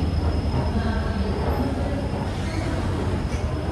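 Trains and rail traffic at Nanded railway station, an A-category stop in the South Central Railway's Secunderabad zone, heard as a steady low rumble and hum with a faint high tone throughout, no clear wheel clatter standing out.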